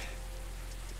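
Steady rain falling outdoors in the Coffee Talk video game, a soft continuous wash of patter heard alone without voices.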